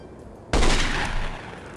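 A single loud, close gunshot from a Lithtech-engine video game cracks out sharply after a quiet stretch, its roaring blast decaying slowly over the following second.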